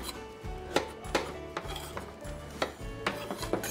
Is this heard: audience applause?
no